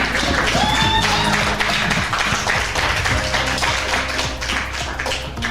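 Loud audience applause and clapping at a comedy roast battle show in Denver, filling the space, steady and dense for several seconds, then tapering slightly toward the end.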